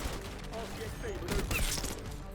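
A single quick burst from an AEK-973 rifle in Black Ops 6, several rapid close gunshots packed together over a steady game soundscape.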